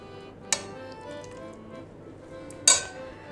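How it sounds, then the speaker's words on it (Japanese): Cooked chickpeas in their cooking liquid are spooned onto a plate, giving two sharp clinks of utensil on dish a couple of seconds apart against a quiet background. "チェチュを汁ごと盛り付けます。"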